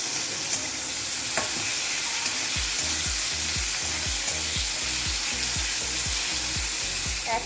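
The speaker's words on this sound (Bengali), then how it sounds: "একেবারে অল্প তেলে ভাজছি চুনো মাছ" Small whole fish frying in just a little oil in a home kitchen pan, producing a loud, continuous close-up sizzle with steady crackling and a rhythmic series of scraping stirs, with no voices.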